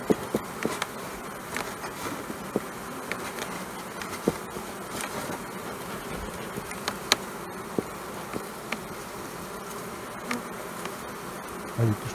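Steady, dense buzzing of many honeybees close by inside a hive, a continuous droning hum with occasional sharper clicks and knocks.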